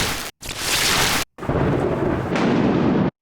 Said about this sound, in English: The first things that come to mind are obviously the thunder and the lightning.